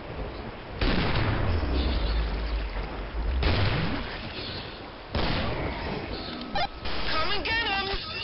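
Killing Floor gunfire and heavy booming shots rumble loudly in sustained, overlapping bursts with deep low-end thuds, while voices talk and shout over the din.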